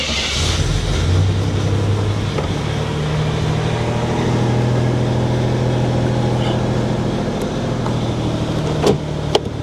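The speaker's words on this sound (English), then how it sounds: "I'm going to fire it up for you, and it's probably going to run like crap." A Buick Grand National engine with a PowerMaster brake fault runs roughly at idle, a loud, continuous, uneven engine rumble with slight wavering, and a brief word spoken over it.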